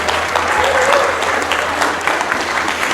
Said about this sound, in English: let's give a wonderful round of applause to our moderator